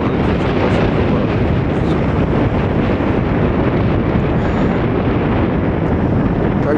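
Cold November wind blows on Stogi beach by the sea, buffeting the microphone in a loud, continuous roar with no let-up.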